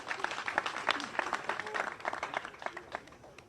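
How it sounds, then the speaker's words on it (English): Audience clapping at a gathering in Uganda, a fairly quiet patter of scattered hand claps that continues steadily throughout with faint voices underneath. "Let's give him a clap."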